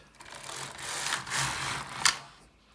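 Carriage of a Singer double bed knitting machine sliding across the needle bed while knitting an alpaca wool jacket, a close soft rushing whir that swells twice and ends in a sharp click before fading.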